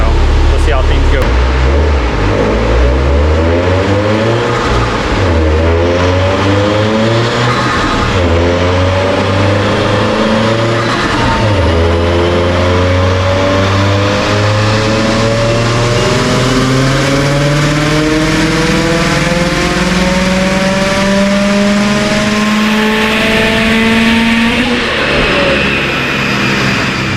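A tuned car with about 21 pounds of boost on pump gas roars through a full pull on a dyno. The engine note climbs steadily and loudly for nearly half a minute before backing off at the end.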